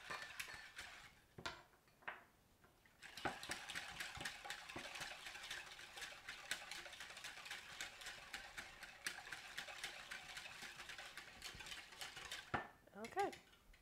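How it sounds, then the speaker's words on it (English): Whisking ingredients in a bowl for muffins, a fast continuous rattle of metal tines scraping the bowl, with brief stops at the start and a faint voice at the end. "just gonna whisk that up to make this as uniform as possible"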